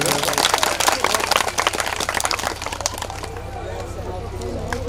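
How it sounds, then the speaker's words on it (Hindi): Enthusiastic applause from a large audience welcoming the speaker at a Shrimad Bhagavat Katha religious discourse, dense clapping that gradually thins out, with a voice speaking over it. "जोरदार तालियों से स्वागत किया गया।"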